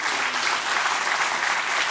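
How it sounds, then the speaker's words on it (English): Steady applause from an audience at an alumni meet inaugural ceremony, a dense even wash of clapping throughout with no distinct voices. "Can we have a big round of applause for them?"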